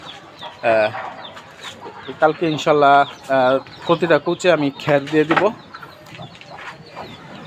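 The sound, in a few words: hens clucking in a poultry coop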